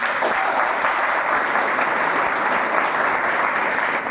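An audience at a Hindi storytelling talk breaks into loud, steady applause, a dense wash of clapping that holds at full strength the whole time with no voices over it.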